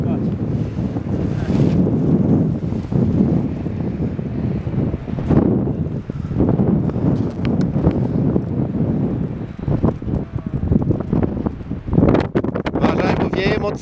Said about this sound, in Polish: Uważaj, bo wieje mocno.